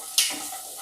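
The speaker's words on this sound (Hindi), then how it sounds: "जीरा पाउडर, कटा हुआ काजू, इसे डालकर फ्राई कर लेंगे।" Cumin powder and chopped cashews fry in a pan with a steady, close sizzle, opened by a brief scrape or stir near the start, with no voices.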